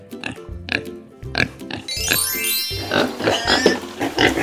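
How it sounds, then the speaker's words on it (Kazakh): A domestic pig grunts and oinks repeatedly, loud and close, in short irregular bursts that swell into a longer squealing stretch toward the end, with no other sound competing. "Мынау шошқа. Шошқа үй жануары."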